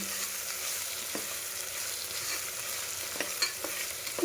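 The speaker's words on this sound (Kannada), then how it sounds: "ನೆಕ್ಸ್ಟು ಒಂದು ಟೊಮೆಟೊ ಹಾಕ್ತೀನಿ" A tomato frying in a pan of ghee rice base, with a steady close hiss of sizzling oil and a few faint scrapes of stirring, with no talking.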